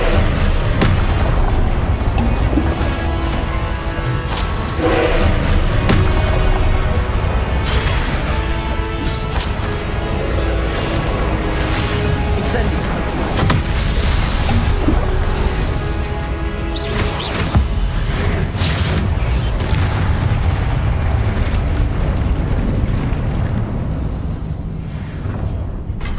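A spell-casting effect from the video game Hogwarts Legacy, a loud, dense burst of booming crashes and crackling magical blasts that keeps going without letup over a swelling game soundtrack.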